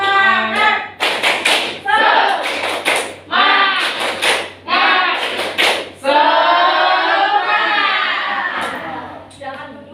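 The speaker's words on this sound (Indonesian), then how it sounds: "Tepuk semangat." Schoolchildren standing in a classroom perform a rhythmic spirit clap led by a teacher, bursts of patterned clapping and slaps alternating with group chanting voices, fairly close and lively.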